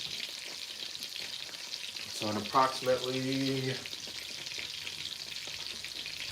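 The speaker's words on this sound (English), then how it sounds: "Right now we got the first batch currently frying." Panko-breaded beef steak sizzles steadily in hot oil for Egyptian-style fried steak, a continuous bright crackling hiss throughout, with someone briefly talking over it midway.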